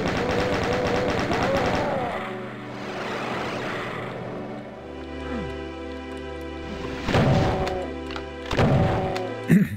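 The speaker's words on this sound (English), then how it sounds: "Who the hell is shooting me?" Enemy gunfire in a Doom idgames map: dense impacts and shots with thuds, mechanical hums and bursts of combat noise running continuously, louder flurries near the end.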